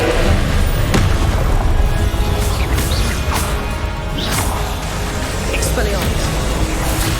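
Repeated Confringo fire-spell blasts in Hogwarts Legacy burst through dense, continuous combat noise, with whooshing casts and booming impacts; voices call out throughout.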